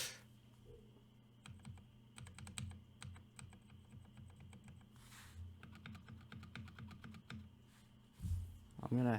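Keys clack in rapid bursts on a newly built TOFU60 mechanical keyboard, loud and close with uneven rhythm, over a steady low hum.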